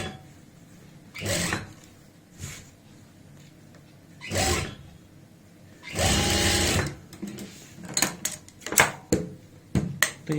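Sewing machine stitching piping onto a kurti, running in several separate bursts of whirring with pauses between, ending in quick short stop-start runs.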